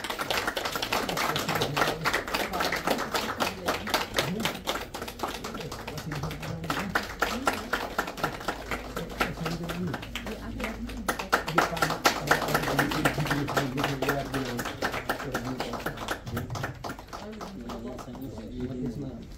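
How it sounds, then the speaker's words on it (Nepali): Audience applause at a scholarship and award ceremony in Nepal, a dense, sustained patter of many hands clapping steadily for the whole stretch before easing slightly at the end. "गडगडावश तालीले सम्मान गरौँ"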